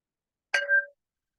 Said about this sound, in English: I'm going to invite the bell.